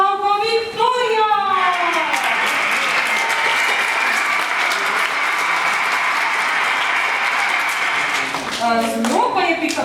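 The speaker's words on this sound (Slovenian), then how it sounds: "Aplavz, prosim, aplavz." An audience at a children's theatre show bursts into sustained, dense applause that holds steady for several seconds, with a presenter speaking over the start and end of it.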